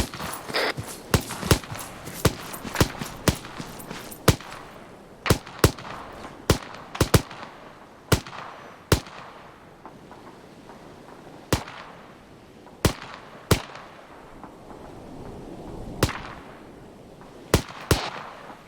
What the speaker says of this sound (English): Charlie, I still want some suppressive fire going out